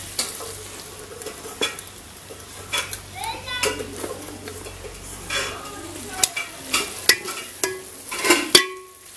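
Chicken keema potato curry being served from a pot: scattered spoon scrapes and clinks against metal over a soft sizzle, with voices and children talking in the background.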